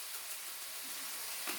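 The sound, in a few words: beef stew meat and herbs sizzling in a pan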